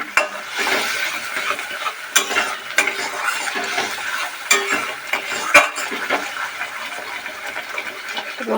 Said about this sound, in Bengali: মশলাটাকে ভালো করে কষাতে হবে। মশলাটা আরও কিছুক্ষণ ভালো করে কষিয়ে নেব।